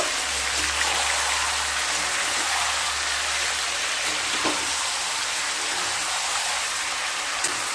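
Mutton sizzling and frying in a pan over high heat as it is stirred and mixed, with a steady dense crackle, occasional scraping stir sounds, and a low rumble early on; no voices.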